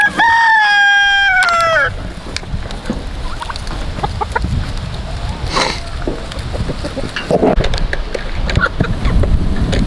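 A rooster crows loudly up close at the start, followed by scattered clucking and pecking sounds from chickens and turkeys in the background.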